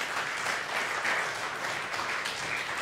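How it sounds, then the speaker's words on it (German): Steady audience applause at an award ceremony for the medius prize, a dense, even wash of many hands clapping that holds for the whole stretch at moderate distance, with no voices over it. "einen großen Applaus für Marie-Claire Schumacher"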